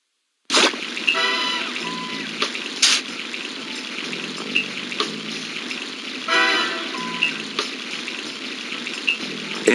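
Bursts of gushing, splashing water in the cartoon puzzle game Where's My Perry?, starting abruptly after a brief silence, then repeated sprays and fizzing splashes with short bright chimes, fairly faint overall.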